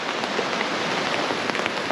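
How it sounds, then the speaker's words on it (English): Steady rain falling in a very wet part of Washington State, a dense close patter of drops on surfaces with scattered sharper taps, continuous and fairly loud with no voices. "It hasn't stopped raining since we got here."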